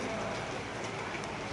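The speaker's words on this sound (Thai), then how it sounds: "ฝนตกหนัก" Heavy rain pours in a steady, dense broadband wash throughout, with no breaks or individual drops standing out.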